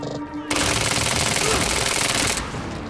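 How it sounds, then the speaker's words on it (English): Rapid SMG gunfire rips through a Quantum Break firefight as one sustained, loud burst of about two seconds, following a brief voice at the start. "It's one of those SMGs."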